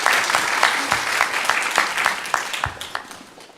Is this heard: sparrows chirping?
no